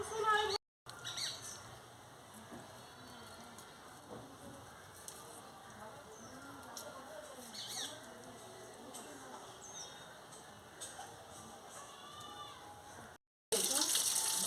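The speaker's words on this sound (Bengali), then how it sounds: "এবার মাছটা কেটে নিয়েছি এবার ধুয়ে নিচ্ছি ভালো করে একটু ধুয়ে নিই" Cut singi catfish being rinsed by hand under running water in a kitchen, a steady close wash of splashing and trickling that runs almost the whole stretch, with brief breaks at the start and end.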